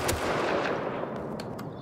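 Gunfire in a video game, a loud blast followed by a rumbling echo and a couple of fainter sharp reports, with no talk.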